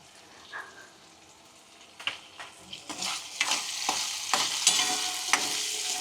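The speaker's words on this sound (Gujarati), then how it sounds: "હવે કાજુ નાખીને આપણે થોડી વાર રહેવા દઈએ એટલે કાજુ સરસ તળાઈ જાય।" Cashews fry in hot oil while making khari sev, a quiet start giving way to a busy sizzle with stirring scrapes and popping bursts, close and growing louder.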